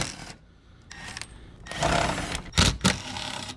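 A ratchet or wrench works the 10 mm bolts under the front bumper of a Toyota 4Runner TRD, giving rapid close clicking bursts separated by pauses, followed by a couple of sharp metallic knocks.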